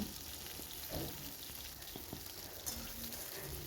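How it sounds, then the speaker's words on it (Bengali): Potatoes, carrots and beans fry in oil over panch phoron, a soft, even hiss of sizzling with a few light stirring clicks, fairly quiet and close, with nobody speaking. "পাঁচফোড়নটা ভাজা হয়ে যাওয়ার পরে আমি আলুগুলো দিয়ে দিলাম গাজর দিলাম সিমটা দিয়ে দিলাম"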